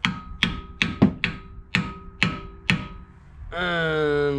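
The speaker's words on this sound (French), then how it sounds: "Trappe le marteau." Nine sharp metallic hammer taps on a BMW 525 TDS part, evenly spaced and close, followed by a sustained tonal hum at the end.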